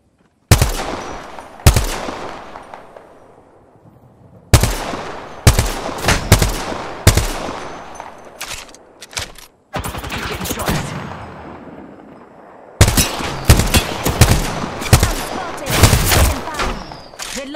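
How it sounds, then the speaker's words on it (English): Loud, close gunfire in the battle royale shooter Apex Legends, with clusters of sharp single shots and rapid bursts separated by brief pauses, each crack followed by a short decaying echo. "Listen up, I'm getting shot at."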